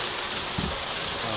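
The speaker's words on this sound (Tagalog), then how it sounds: "Umulan na naman." Steady midday rain pours down outdoors where goats have been herded inside for shelter, a dense even hiss filling the whole stretch with a brief low thump partway through.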